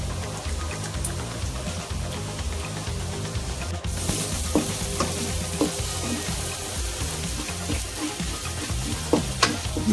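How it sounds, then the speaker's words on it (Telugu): Sliced onions fry with turmeric and chili powder for a chicken fry, sizzling loudly and steadily with crackling pops and occasional stirring scrapes close by. "ఉల్లిపాయలు చాలా వరకు వేగిపోయినాయండి"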